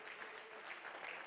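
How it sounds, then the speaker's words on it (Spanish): Brief faint applause from a congregation at a church conference, a soft continuous patter of many hands clapping heard at a distance. "Denle un aplauso al Señor"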